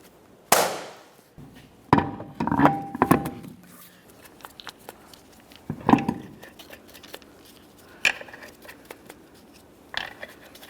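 Several sharp taps seat a wheel center cover on a 2004-2008 Ford F-150, irregular knocks and clicks spread across the stretch with quieter rattles between, close by.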